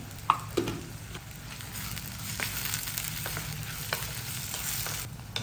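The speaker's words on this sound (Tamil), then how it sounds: "ஒரே ஒரு மலை பூண்டு வந்து சின்னதாக போட்டிருக்கேன் ஸோ இது வந்து நல்லா வதங்கட்டும்" Small hill garlic sautéing in a pan for egg curry gives a bright, steady sizzle up close, punctuated by a few sharp spatula taps and scrapes, with no speech.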